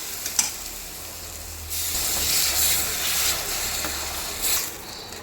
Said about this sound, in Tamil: கொதிக்கிது பாருங்கள்